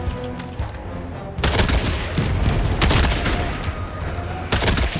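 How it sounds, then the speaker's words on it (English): Bursts of rapid gunfire and explosive blasts from an exploding crossbow in the Helldivers 2 game, loud and dense with short pauses between volleys, no voices heard. "Exploding crossbow."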